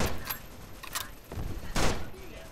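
Gunfire from a World War II video game, with several bursts of shots spread across the stretch, the loudest near the end, over a noisy game background.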